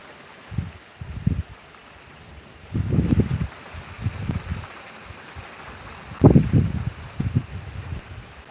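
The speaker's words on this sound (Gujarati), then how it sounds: "આજનો સારો વરસાદ ચાલુ થઈ ગયો છે" Rain falls on a farm field at Nani Rafudal in Lalpur taluka, Jamnagar district, in soft irregular bursts of patter and rustle that swell and fade over a steady wet hiss, with no voices.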